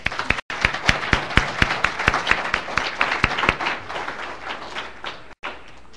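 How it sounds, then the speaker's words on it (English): An audience at a student awards convocation claps, giving a dense run of hand claps with several loud individual claps standing out near the microphone before the applause thins. "Let's give them an applause."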